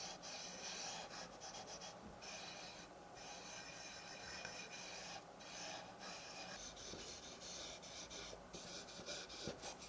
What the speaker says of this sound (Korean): 오일을 목재에 골고루 짜주고 천을 이용해서 나무가 오일을 흡수할 수 있도록 도와줍니다